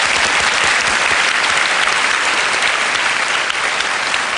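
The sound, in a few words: audience applause welcoming a guest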